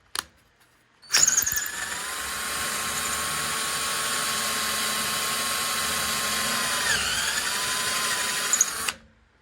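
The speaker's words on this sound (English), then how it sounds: "I'm going to take my drill, put the last hole in, drop a bolt in on this side." A power drill runs steadily for about eight seconds, close and loud, with a brief pitch dip near the end before it stops.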